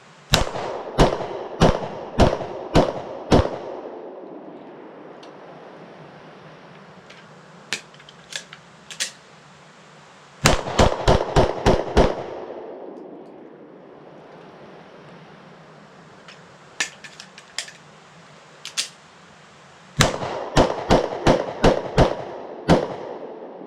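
A Mossberg MC1 SC pistol, still soaking wet after a mud test, fires outdoors in rapid strings of five to seven sharp, loud shots. Long quiet gaps between strings hold a few scattered clicks.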